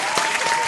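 Studio audience applauding a guest returning to the studio, a short dense burst of clapping at steady volume with no voices.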